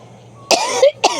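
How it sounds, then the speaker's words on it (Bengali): A person coughs twice outdoors at a village home in spring, two sharp, loud bursts close by, the first slightly drawn out, after near silence. "আমার মাথার উপর আমি কাশি দিছি, পাখি ভয় পেয়ে গেছে।"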